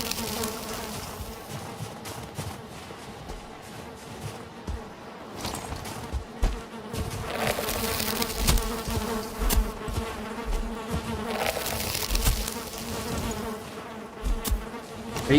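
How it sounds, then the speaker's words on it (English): Bees buzzing inside a Valheim game level, a steady insect drone running throughout the clip with louder swells partway through, no voices heard. "I heard bees in there."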